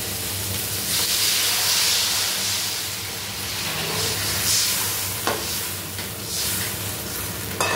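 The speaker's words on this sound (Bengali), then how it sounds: "এর মধ্যে আমি অ্যাড করব পরিমাণ মতো জল।" Water is poured into sizzling fried masala for a pomfret fish curry, a loud continuous hiss and bubbling with occasional clatters, steady throughout with no talk.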